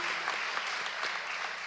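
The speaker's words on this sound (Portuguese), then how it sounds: "aplauda o Senhor pela vida deles" A congregation claps for its seminary teachers in a church, a brief dense burst of applause from a crowd filling the room.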